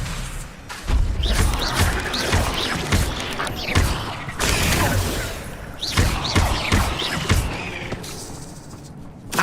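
Spell casting in the Hogwarts Legacy video game on PS5, with an Expelliarmus disarming spell among dense, loud combat effects: repeated bursts, thumps and crackling impacts layered with a continuous magical rumble.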